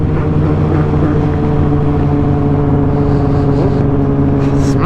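A Yamaha R1 motorcycle held up in a wheelie, its engine a loud, steady, close drone with a strong low hum and no speech.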